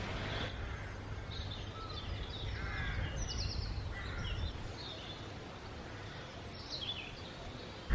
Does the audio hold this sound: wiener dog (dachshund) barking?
no